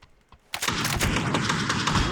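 Rapid, loud bursts of video game shotgun fire, a quick tap or two and then a dense continuous volley of overlapping shots, with a player's voice mixed in.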